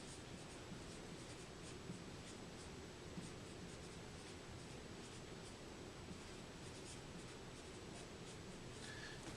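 Pen or marker writing by hand on paper or a board while noting an inequality symbol: a faint, steady scratchy rustle with small repeated strokes, quiet and continuous throughout with no talking.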